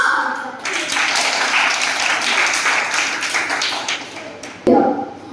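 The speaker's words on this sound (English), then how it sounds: "please welcome all my friends with a huge round of applause" A group discussion audience breaks into a round of applause, a dense, even wash of clapping that swells in and holds for several seconds before a sharp knock or tap near the end.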